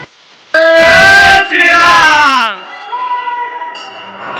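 A crowd of voices chants loudly in unison at a busy Hanuman temple, with long sustained shouted syllables rising and falling close by over a murmuring background throng.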